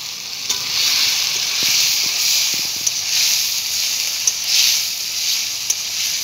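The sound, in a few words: chicken meat added to hot pan with tomato, sizzling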